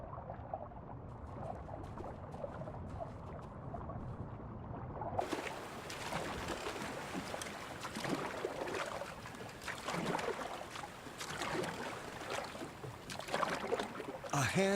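Muffled underwater churn over a reef as an old, battered hand-built wooden boat passes overhead, swelling into a broad wash of bubbling, sloshing water noise that persists to the end.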